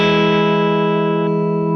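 A sustained chord on a Fender Custom Shop Stratocaster-style electric guitar, middle pickup added, rings out through effects, bright and clean, decaying slowly with a shift in tone partway through.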